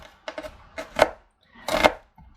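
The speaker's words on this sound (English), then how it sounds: "So we're just going to finely chop it, we don't need it into great big chunks." A knife finely chopping an onion on a board: several quick, close, crisp cuts in short bursts, with a longer rapid run near the end and a brief pause between.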